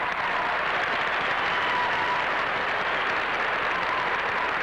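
Steady, dense applause from a large hometown cheering section at the 1971 Miss America pageant, filling the whole stretch at an even level without a break or any clear voices.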